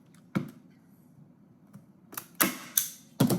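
A staple gun fires into a T-shirt stretched over a canvas, with several sharp, close clicks and snaps, the loudest bunched toward the end above a quiet background.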